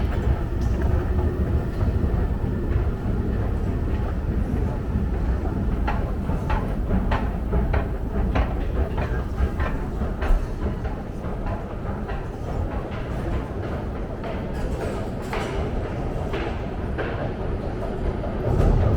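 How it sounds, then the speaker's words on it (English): An underground metro train in Prague rumbles continuously deep below ground, a loud steady roar of wheels and car noise with rattling clicks and occasional squeals throughout. "this is our second time taking the underground metro"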